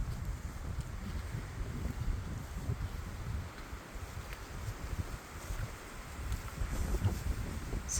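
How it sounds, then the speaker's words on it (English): Steady wind at a lakeside campsite on a backcountry island, a continuous low rushing and buffeting roar with gusts swelling and easing throughout, no voices. "It's pretty windy right now."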